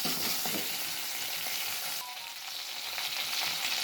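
Onions with salt and ginger garlic paste fry and sizzle steadily in a pan while being stirred, a continuous close hiss with no talking.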